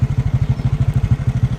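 A motorcycle engine idles with a steady, rapid low thumping pulse, loud and close, on a roadside slope with no voices.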